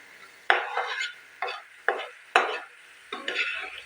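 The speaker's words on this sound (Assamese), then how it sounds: "দি মছলাখিনি আৰু মই 2 মিনিট সময় এইদৰে ভাজি লওঁ" Masala spices with oil and half a cup of water fried and stirred in a pan, heard as five distinct sizzling, scraping bursts in an irregular rhythm, close and moderately loud with quiet gaps between.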